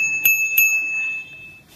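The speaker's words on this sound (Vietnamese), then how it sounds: "có chuông để luôn cho các bác." A bicycle bell on an XDS Romance500 mountain bike is struck twice in quick succession, bright metallic dings that ring on and fade out, close and clear with no talking.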